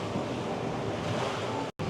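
Indoor river ride boat at a rainforest-themed restaurant in Galveston, heard as a continuous rushing wash of water and ambient noise, broken by a brief dropout near the end.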